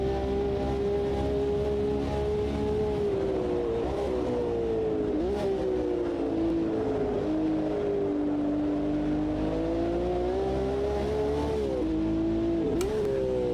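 Sustained engine roar of 1960s-era racing cars in the Automobilista 2 sim racing game, steady revving with pitch rising and falling through gear changes, continuous and loud with no talk.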